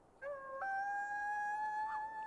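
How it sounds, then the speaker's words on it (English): A single sustained wolf howl from the video game WolfQuest, a clear tonal cry with steady pitch held for about two seconds, close and alone over quiet background. "I wanted to howl."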